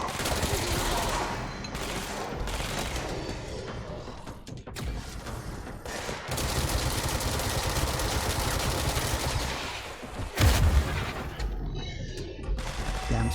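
Continuous heavy gunfire in the Control video game during combat, loud sustained bursts with crashes and mechanical clatter throughout, barely a pause.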